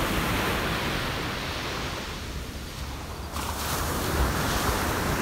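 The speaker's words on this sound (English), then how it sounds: "the waves are loud today" Ocean waves break on a beach in a steady, loud, broadband roar with some wind, continuous throughout with no voices.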